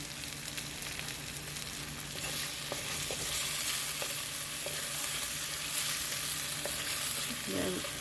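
Garlic and ginger paste sizzles steadily in hot oil for a Sri Lankan lamb curry, with a spoon repeatedly scraping and stirring through it, close by and continuous with no voices.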